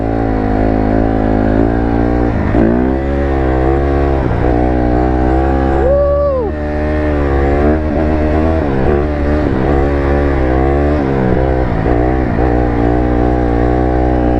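A 150 dirt bike engine drones steadily while being ridden around a lot, its pitch rising and dipping with throttle changes over a constant loud hum, close by with no voices.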